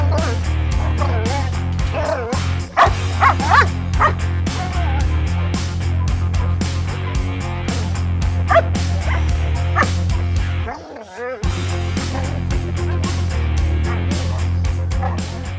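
Puppy yipping, barking and whimpering repeatedly in rapid bursts over a steady low background drone, with a short pause near the end before the yips resume.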